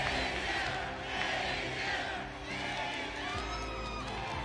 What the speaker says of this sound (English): The crowd chanting FaZe's name.